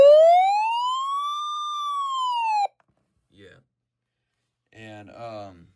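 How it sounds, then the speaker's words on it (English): Weather radio running a siren test: a loud, steady electronic wail that rises and then falls over about two and a half seconds and cuts off abruptly, followed by a brief spoken word and faint handling sounds. "now it's siren test this thing"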